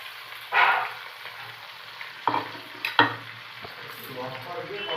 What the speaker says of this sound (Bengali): আমার যে আরও দুটো মাছ ছিল সেটা এবার আমি তেলের মধ্যে দিয়ে দেবো